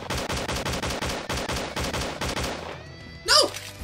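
The Tinky beam attack in the Slendytubbies 3 video game, a rapid, loud, rhythmic pulsing burst repeating steadily, ending in a brief high, shrill squeal.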